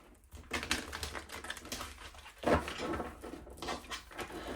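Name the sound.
tarot cards being shuffled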